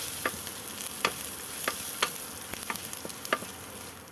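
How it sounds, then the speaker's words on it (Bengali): Onions being stirred in a hot frying pan after cumin seeds, with a steady sizzle and sharp scraping strokes of a spoon roughly every half second, close and moderately loud, no voices. "ভাজা হয়ে গেছে, মিষ্টি গন্ধ বেরিয়েছে। এবার আমি মিশিয়ে দিলাম"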